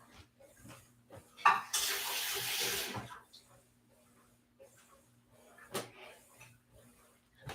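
Water from a kitchen tap runs into the sink for about a second and a half during meal prep, close and steady, with clatter of dishes and cupboard knocks around it and a voice now and then.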